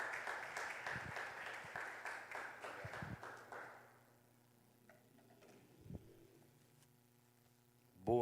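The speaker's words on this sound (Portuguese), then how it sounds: "vamos dar uma salva de palmas para ele" An indoor audience gives a speaker a round of applause, dense steady clapping for about four seconds that dies away into a quiet room with a few faint sounds.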